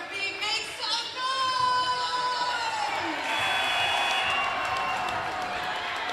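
Wildcat basketball fans in a high school gym during a close late-game possession, crowd noise and whoops swelling under a distant echoing voice, rising into a sustained roar of cheering that holds to the end.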